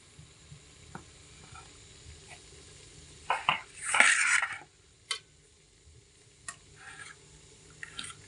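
A hot metal pan of risen homemade bread is lifted down out of a large bowl: a cluster of close scraping and clattering metal sounds midway, with a few light clicks and knocks in a quiet room.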